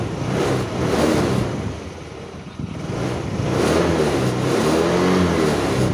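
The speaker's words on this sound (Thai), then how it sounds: "มันต้องเร่งเครื่องนิดนึง" A nearby car engine is revved and held at higher speed, dipping briefly before climbing again into a sustained roar, while battery charging voltage reads 14.5 volts.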